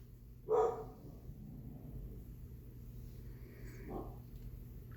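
A pet dog named Luca, indoors, gives a single sharp bark and a second, softer bark a few seconds later, both from a distance, heard over a low, steady room rumble.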